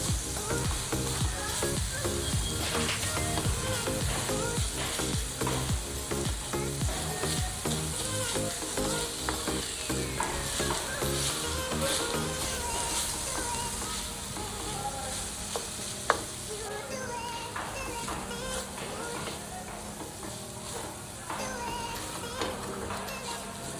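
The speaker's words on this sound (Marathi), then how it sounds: "आता चीज मेल्ट तोपर्यंत आपल्याला हे हलवायचं आहे" Coconut barfi mixture with a cube of melting cheese is stirred in a pan, a steady frying sizzle with scraping stirs running continuously and fairly loud throughout, no talk.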